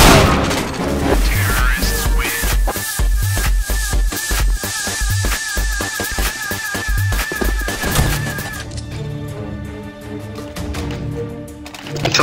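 Grenade blasts and heavy gunfire in Counter-Strike: Global Offensive during a competitive match, dense booming bursts and rapid shots filling most of the stretch before easing to a quieter tail.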